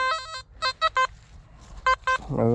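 XP Deus metal detector sounding a target signal in a heavily searched forest: a short run of sharp electronic beeps, then two separate paired bursts of tone, close and clear with no talk.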